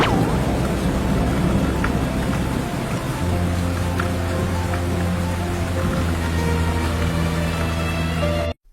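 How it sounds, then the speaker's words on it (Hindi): Steady rain pours down continuously, a dense broadband hiss with a low droning hum underneath, no voices. "तभी बारिश चालू हो जाती है।"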